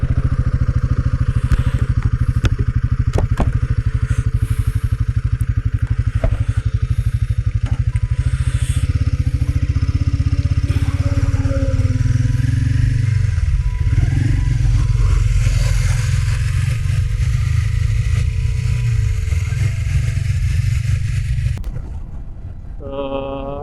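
Motorcycle engine drones steadily and loudly throughout a ride from home, with wind rush and rattling clatter mixed in, until the engine note drops and fades near the end.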